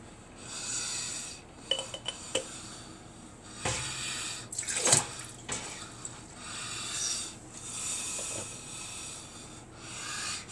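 Water runs and splashes quietly over glass jars in a sink, with intermittent rubbing and clinking of the jars as they are handled, soft and close throughout.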